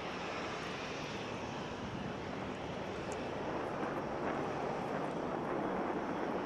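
A Canadair CL-415 water bomber's engines drone in a steady, broad roar that stays constant throughout, loud and uninterrupted, with no voices present.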